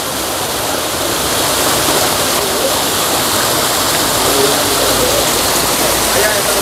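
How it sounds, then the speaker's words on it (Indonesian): Water rushes loudly and steadily at a fish pond during a carp broodstock harvest in light drizzle, a constant roar with voices talking over it. "Air deras."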